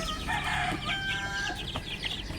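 Young chickens about a month old cluck and chirp continuously in a backyard farm pen, a dense overlapping chorus of close, moderately loud calls with a few sharper cries.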